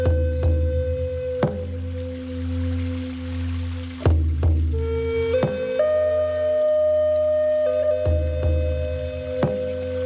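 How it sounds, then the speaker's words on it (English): A water sound effect layered into a 432 Hz heart chakra sound healing track in Ableton Live: soft drips and squishy splashes under sustained bowl-like tones, with sharp plucked or struck accents recurring every few seconds. "So now the water is coming in."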